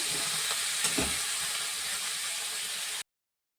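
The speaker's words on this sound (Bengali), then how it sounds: "ভালো করে কষে নিতে হবে মশলাটা গন্ধ চলে যাওয়া অবধি" Spice masala frying in oil for a tengra fish curry with onion greens, a dense continuous sizzle with light stirring clinks, close and steady, cut off abruptly by a short gap of silence near the end.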